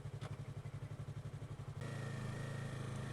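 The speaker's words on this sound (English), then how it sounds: "The engine noise, as you could hear, it's quiet, but it has actual noise." A 2015 Yamaha R3 motorcycle engine idles with a steady, quiet pulsing thrum, then shifts to a smoother, continuous hum partway through.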